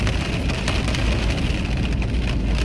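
Light rain falls on a car during winter near a railroad, a dense steady patter of drops with faint scattered ticks throughout, moderately loud and without voices.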